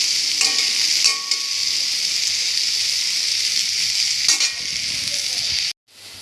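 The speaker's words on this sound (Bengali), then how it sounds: "পটলটা একটু ভেজে নিচ্ছি, কারণ পটল না ভাজলে তরকারির মধ্যে দিলে মানে অতটা ভালো লাগে না" Pointed gourd (potol) frying in oil in a pan, a steady broadband sizzle with a few stirring scrapes, close and continuous before cutting off abruptly near the end.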